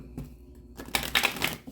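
Quick crisp riffling and flicking of tarot cards being shuffled, a short burst of papery snaps close by.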